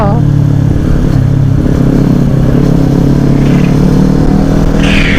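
A Kawasaki Ninja 400 motorcycle engine rumbles loudly and steadily throughout, holding a low droning tone with a brief higher whine near the end.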